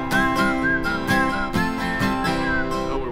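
Several people whistle a tune at the start of a song, a steady melodic line over guitar or band accompaniment, loud and close, with no talking.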